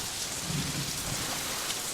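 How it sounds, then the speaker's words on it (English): Steady rain falling at night in a flooded village, a continuous hissing patter on surfaces with low rumbling underneath, even and unbroken with no voices. "It's just the rain."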